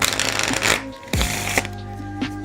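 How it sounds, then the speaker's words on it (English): Close riffling of a deck of playing cards, a long ruffling burst, a brief pause, then another riffle settling into soft taps. "you then proceed to shuffle the cards"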